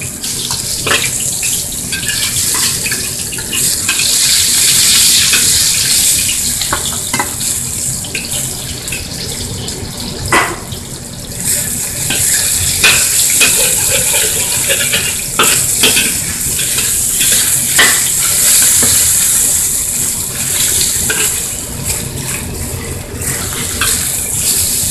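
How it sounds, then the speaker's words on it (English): Meat for moo goo gai pan crackles loudly in a hot pan, with a dense, continuous sizzle and occasional clattering stirs and turns throughout, close and with no talking. "After you kind of heat it up, and you start dropping the meat in it"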